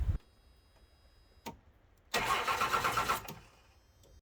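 A first-generation Cummins diesel pickup engine cranks after a couple of faint clicks, catching into a loud, rough rumble for about a second before shutting off, with no voices.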